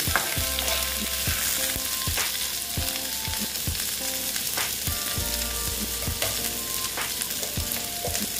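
Onion frying in a pan for a mourola fish curry: a continuous bright sizzle, close and steady, broken by repeated soft knocks and scrapes of a spoon stirring through the pan.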